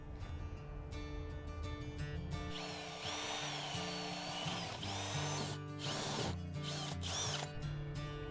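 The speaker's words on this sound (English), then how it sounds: "So I'm gonna mark it out, drill a little hole" A power drill bores a small hole in a little metal bracket meant to hold a truck's head unit, whining up in several close, loud bursts with short pauses between.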